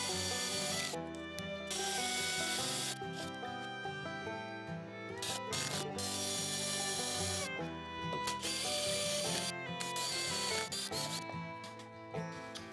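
A step bit bores a hole for a baluster in a very tight space, giving a continuous loud grinding, rubbing whine with brief pauses and restarts throughout.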